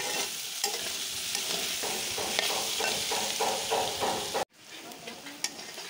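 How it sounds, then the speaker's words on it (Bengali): Potatoes frying in a pan, a steady hiss and sizzle with rhythmic scraping of a spatula, close and loud, cutting off abruptly before quieter sizzling resumes. "আলুগুলো ভাজতেছি এখন।"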